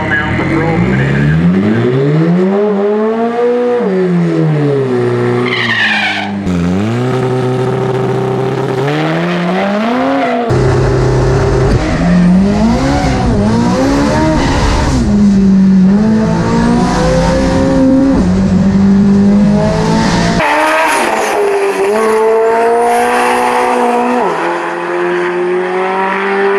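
Foxbody Mustang with a 4G63 engine on a drag strip, its engine revving hard and rising through gears while the rear tires spin and squeal, loud and continuous, with voices faintly underneath.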